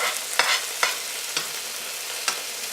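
Steaks fry in a pan with melted butter, a steady broadband sizzle broken by four sharp scraping spoon strokes as butter is basted over the meat, close and alone without talk.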